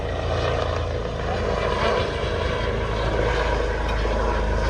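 Hospital helicopter circling overhead, a loud, steady rotor and engine drone that fills the whole stretch without letting up; no talking.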